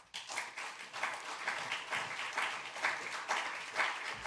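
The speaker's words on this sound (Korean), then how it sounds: "우리 목사님 나오실 때 큰 박수로 환영하도록 하겠습니다." Audience applause at a Korean university chapel service, welcoming a pastor to the pulpit; steady, sustained clapping from a large crowd filling the whole clip, with no talk over it.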